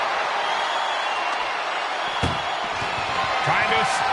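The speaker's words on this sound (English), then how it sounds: "Trying to at least slam one door shut." An ambulance door at a WWE wrestling match is slammed shut, and a single sharp bang stands out halfway through over a steady roar of a large arena crowd, followed by a few duller thuds.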